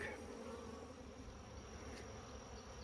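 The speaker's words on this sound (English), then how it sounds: "The bees from the brown hive are looking for their entrance" Honeybees buzz around two combined hives, a dense steady drone of many insects close by and faint, with no voices over it.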